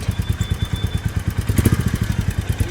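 A motorcycle engine running just after a leak repair on the road to Lava, a close, loud, steady rhythmic thumping idle with quick regular pulses throughout.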